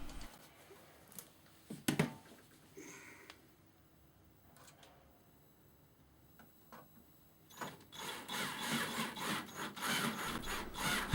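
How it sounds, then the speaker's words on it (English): A screw being fitted on the door of a Hotpoint FDW60 dishwasher: a few sharp clicks, then a sustained scraping, rubbing grind of the screw driving in. It is close and moderately loud, with no talking. "Now fit the screw on the other side."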